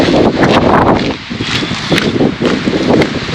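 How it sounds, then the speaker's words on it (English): Wind gusting across the open rim of the Grand Canyon, a steady, loud broadband rush that swells and dips in waves, with microphone buffeting and no voices. "if you hear any sound, gushing sound, that is the wind."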